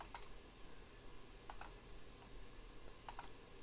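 Computer mouse clicks in video editing software while drawing a shape point by point, three faint paired clicks spaced evenly over a quiet room hum.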